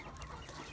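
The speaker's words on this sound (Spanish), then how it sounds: "¡Gallinas!" Chickens cluck faintly in a garden, giving a brief, soft, distant burst of clucks with no talking.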